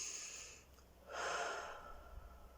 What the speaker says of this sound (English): close your eyes, and breathe in and out